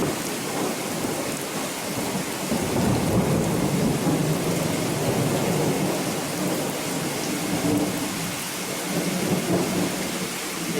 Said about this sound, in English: see that rolling thunder?